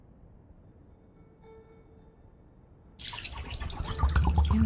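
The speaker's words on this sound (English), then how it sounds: "The water runs back out of one of the other holes." Water gushing from holes in a stone puzzle mechanism in a 2014 point-and-click adventure game: quiet until a sudden loud, splashing rush of running water starts and swells, continuing to the end.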